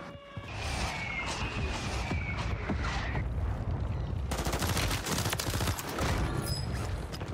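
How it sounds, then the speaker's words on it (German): Rapid automatic gunfire from the Renetti pistol in the video game Warzone, crackling bursts of closely spaced shots that fill the scene, with a sharper, denser volley in the second half. "Der Sound von der Waffe ist so dermaßen cool"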